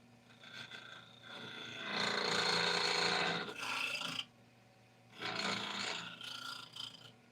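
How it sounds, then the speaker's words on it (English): Carbide tool rounding the inside of a wooden piece on a lathe, giving a close, loud rasping scrape in two sustained bursts separated by a quieter gap, with no talking. "I'm rounding the inside part. So I'm actually shoving the carbide all the way through."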